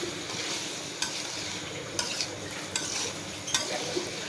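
Fried potatoes sautéing with fish in a pan make a constant soft sizzle, with a few sharp spoon-scrape clicks spaced about a second apart as they are stirred.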